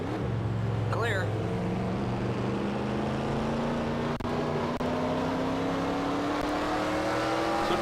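A race car in a racing video game drones through a lap with a loud, steady engine note that climbs gradually in pitch as it accelerates, with a couple of brief clicks and a short rising whine early on.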